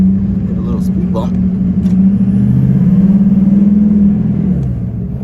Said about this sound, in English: like the engine sounds strong